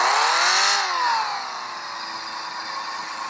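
Car engine idling roughly with a check-engine light on, misfiring on cylinders three and four; a steady close mechanical drone that surges and sags unevenly at first, then settles into a shaky, wavering hum.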